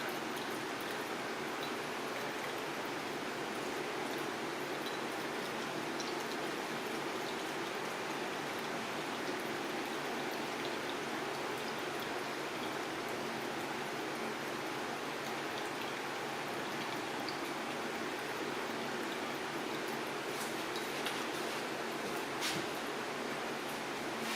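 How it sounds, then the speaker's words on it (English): Hot gyoza dipping sauce strains through a strainer as a continuous, even hiss of trickling liquid that holds steady for the whole stretch. "it's just straining through. And we're going to get all that solid matter out of there"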